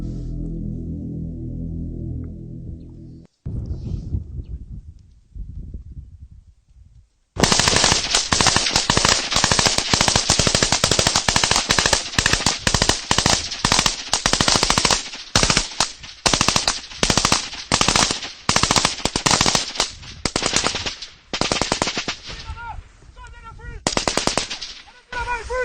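Combatants in Burkina Faso lay down heavy automatic gunfire during an assault on a wooded position, with rapid machine-gun bursts and sharp rifle cracks in quick irregular volleys, loud and close, after a quieter opening with a low tonal drone.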